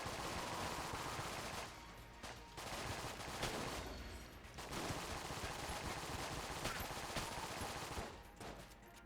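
Weapon fire in the roguelike shooter Enter the Gungeon: rapid, loud bursts of gunfire in long sustained stretches, broken by brief pauses, with no voices.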